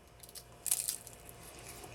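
One crisp, crackly bite into flaky spanakopita pastry filled with spinach and feta, close up and short, followed by faint quiet chewing.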